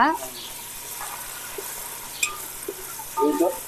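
Ginger paste frying in oil in a pan for chicken leg piece biryani: a constant close sizzle with occasional stirring scrapes and utensil clinks.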